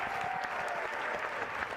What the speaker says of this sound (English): So big round of applause for all of you for being here.